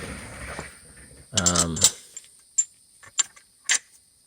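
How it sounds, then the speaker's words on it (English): Four metal bolts picked up and jostled together during a 2003 Cummins engine build, a brief burst of clinking handling followed by several separate light metallic taps, close by. "We'll go ahead and grab all 4 of our bolts."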